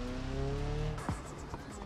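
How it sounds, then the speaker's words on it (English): A blue Volvo drifts in a racing video game, its tires letting out a squealing skid over a steady engine drone, with a brief sharp screech midway. "Because the Volvo is such a drift machine."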